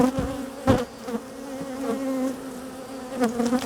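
Honey bees buzz around an open hive during hive inspection, a dense close hum with occasional louder passes and soft knocks.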